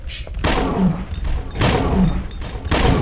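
Gunfire in the 1999 video game Dino Crisis: several booming shots in quick succession, each a sharp broadband blast with a short decay, with a thin high electronic tone running between them.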